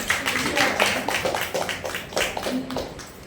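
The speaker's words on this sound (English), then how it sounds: "Yes, super clap for everyone." A micro-teaching class claps together, producing a brief, moderately quiet patter of irregular claps with some voices mixed in.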